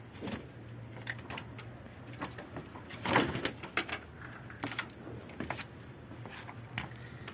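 Soft pigeon coos close by, mixed with scattered clicks, rustles and wing flutters in a quiet space.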